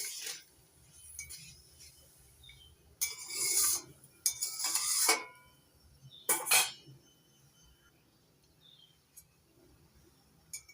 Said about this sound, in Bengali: মরলা মাছগুলো ঝোলের সঙ্গে একটু নাড়াচাড়া করে দিচ্ছি